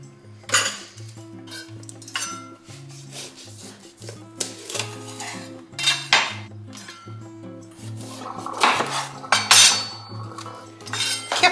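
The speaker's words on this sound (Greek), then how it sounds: "Και κόβουμε στα τέσσερα λεπτές λωρίδες." A knife slicing bell peppers into thin strips on a board, a series of sharp chopping taps and clinks in uneven bursts, close and clear with no talking.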